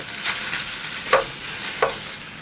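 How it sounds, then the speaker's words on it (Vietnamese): Meat being stir-fried in melted butter for liver pâté, with a soft sizzle and a few distinct spatula scrapes against the pan, heard close and without voices. "Đợi bơ tan thì mình tiếp tục cho thịt vào xào"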